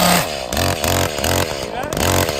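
Chainsaw cutting at close range, its engine note holding steady and then dipping in repeated bogging pulses as the chain bites, during a check of the chain brake.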